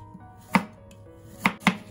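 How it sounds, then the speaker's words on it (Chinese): Knife slicing fresh ginger into thin slices on a cutting board, three crisp separate chops close by, one single then a quick pair, in a quiet kitchen. "我们再把清洗干净的生姜同样给它切成薄片"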